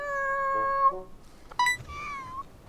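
A cat on a cat island in Tokyo gives a few close, clear meows, a long drawn-out call followed by shorter rising and falling cries.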